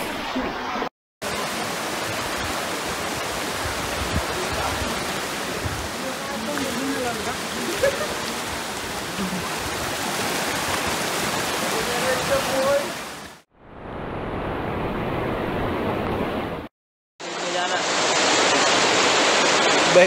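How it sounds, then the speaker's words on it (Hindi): A fast-flowing floodwater torrent from a cloudburst in Nainital, Uttarakhand roars loud and continuous as a broad, hissing rush, broken by short gaps and abrupt changes in tone near the end. "बहुत बहुत तेज पानी,"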